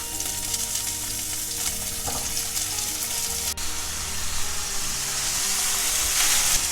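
Cut potatoes frying in hot ghee with cumin seeds for a fasting-day dish, a continuous loud sizzle with brief stirring scrapes, heard alone without talk.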